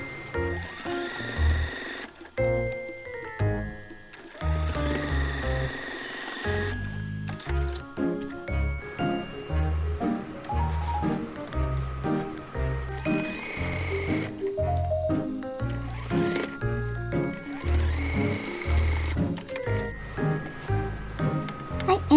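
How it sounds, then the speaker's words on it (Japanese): A sewing machine stitches the 13 cm seam lines on a fabric shoulder bag, running steadily throughout under prominent background music. "13センチのラインで縫っていきます。 4箇所とも縫います。"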